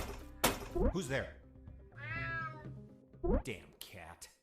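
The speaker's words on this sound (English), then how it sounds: "Damn cat." A cat meows once in a stealth video game, a drawn-out wavering meow between bursts of close male speech and a few soft thuds.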